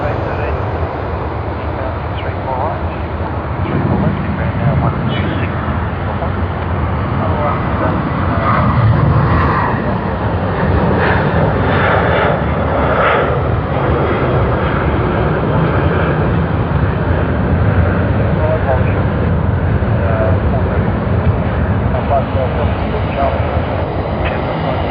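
A Qantas airliner in retro livery passing at Sydney Airport, its engines producing a sustained, loud roar that swells slightly and holds steady for the whole span, with people talking underneath.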